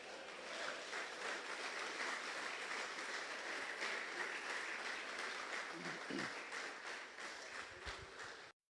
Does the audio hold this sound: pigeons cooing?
no